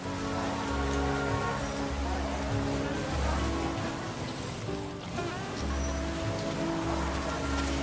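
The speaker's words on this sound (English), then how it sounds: "my footsteps falling heavily on the wet, rain-soaked pavement" Rain falls steadily on pavement at night in the video game World of Goo 2, a continuous soft patter over droning background music, with a narrator speaking.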